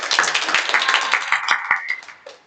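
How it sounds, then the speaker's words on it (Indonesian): Audience clapping in a classroom setting, a burst of many hands applauding steadily and fairly close, then tapering off toward the end. "Beri aplaus untuk"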